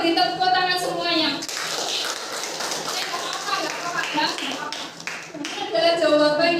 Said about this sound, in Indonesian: Oke, kita beri tepuk tangan semuanya.